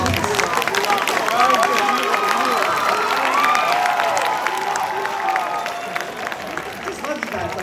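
A lively high school crowd at a Mr. GQ pageant show cheers and applauds steadily, with whoops and shouts rising over continuous clapping throughout.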